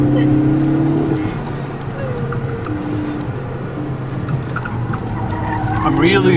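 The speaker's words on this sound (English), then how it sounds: "just a lot of throttle control, a lot of sliding, full throttle here." A Ford EcoBoost car slides at full throttle during a challenge day event at Turner Field, its engine roaring steadily with continuous tire noise and skidding, loud and close for the whole stretch.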